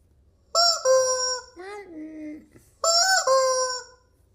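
A rooster crows twice nearby, loud and clear, with a brief pause between the calls and quiet in the background.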